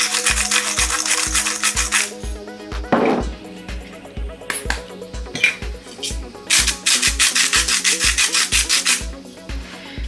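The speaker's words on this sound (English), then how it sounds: "and then you whisk it until smooth" A fritter batter of flour, salt and black pepper is whisked in a bowl, a fast, regular clatter and scrape repeating close by, with a short break partway through and a few faint knocks.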